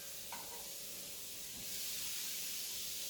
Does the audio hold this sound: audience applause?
no